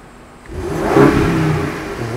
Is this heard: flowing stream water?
no